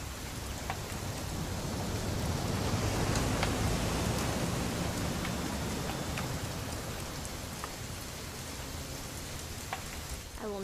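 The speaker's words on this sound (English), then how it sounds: "It's gonna rain the whole weekend, isn't it?" Steady rain pours down in What Remains of Edith Finch during a weekend hunting trip, a dense, even hiss of drops on surfaces with occasional sharper drips, holding at a constant level throughout with no voices.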